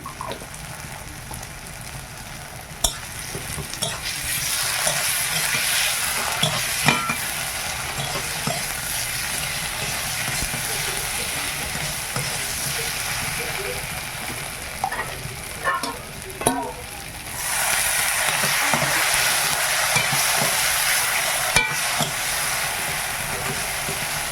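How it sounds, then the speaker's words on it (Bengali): A paste of ground chilli, mustard and cumin fries with potato and onion in a village kitchen for a fish curry, a loud continuous sizzle with scattered pops and stirring scrapes, swelling noticeably near the end. "মশলা ভালোভাবে ভাজা হয়ে গেছে"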